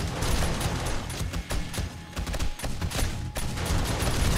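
Gunfire in 7 Days to Die during a feral horde night: dense, continuous bursts of rapid automatic shots, loud and close, with only brief gaps between volleys.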